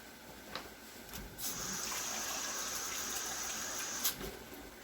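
Water from a kitchen tap runs in a steady, moderate hiss for several seconds, with light clicks at the start and end, heard alone while cooking Creole black beans and rice.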